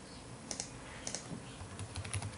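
Soft tapping of keys on a computer keyboard as an email and password are entered, with scattered light clicks in small clusters over a steady background hiss, no voices.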